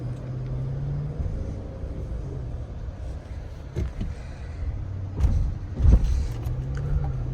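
A 2022 Cadillac Escalade Sport Platinum long-wheelbase SUV driving, heard from inside the cabin as a steady low road and engine rumble with a few louder bumps and thumps toward the end.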